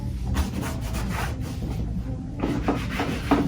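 Cloth wiping and rubbing across a Tesla Model 3 center console surface to remove Armorall, grease and oils: steady close-up scrubbing strokes throughout, with brighter swipes near the end.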